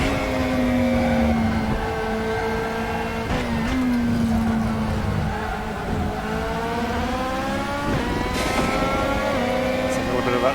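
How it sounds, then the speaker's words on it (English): A DTM 2020 race car in the RaceRoom sim climbs and shifts through gears with a whining drivetrain note and fluttering transmission under throttle, steady and close, with a voice talking over it. "It's a little bit of that transmission flutter I mentioned earlier. Sounds so cool."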